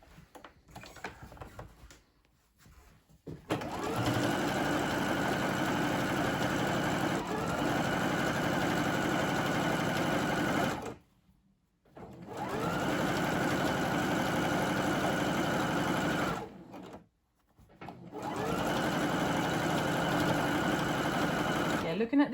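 A sewing machine stitches a trouser hem in three long, steady runs of loud mechanical whirring, each separated by brief pauses.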